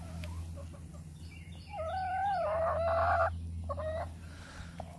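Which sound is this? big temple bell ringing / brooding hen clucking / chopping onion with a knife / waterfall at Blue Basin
brooding hen clucking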